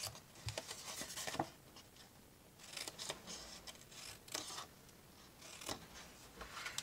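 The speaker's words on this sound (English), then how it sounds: "handy dandy little scissors. I'm going to cut up on the score line and wedge out." Small scissors snipping cardstock along a score line, a scatter of quiet crisp cuts and rustles in uneven bursts, close but soft, with no talking.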